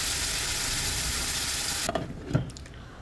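Spiced eggplant and potatoes stirred into frying masala in a pan: a steady loud sizzle that drops off partway, followed by a few scraping, clattering stirring sounds.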